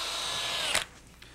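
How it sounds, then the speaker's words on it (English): A portable drill press whines steadily at close range, boring a hole into wood for about a second before cutting off with a brief clunk, leaving quiet room noise. "A portable drill press accessory allows me to bore a perfectly straight hole."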